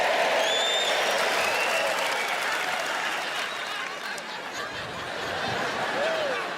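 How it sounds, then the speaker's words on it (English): A stand-up comedy audience applauds and cheers, with scattered laughter mixed into a dense, steady wash of clapping that slowly fades and then swells again. "They just cheering the fact that there's stones in the olives."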